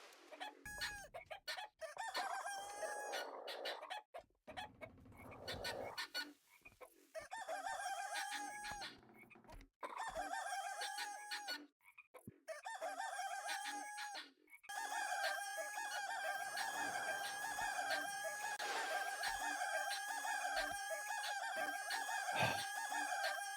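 Chickens cluck and a rooster crows over and over in the video game Baby Steps, loud and close, in bursts broken by short gaps before settling into an unbroken, insistent stretch of calls.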